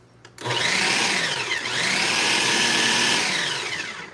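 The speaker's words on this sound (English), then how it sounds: "I'm going to pulse it just a little bit more before I put in the lemon and the salt and the olive oil" A food processor whirs steadily as spinach is pulsed, a loud continuous motor drone that starts abruptly, dips briefly midway, then resumes before tapering off.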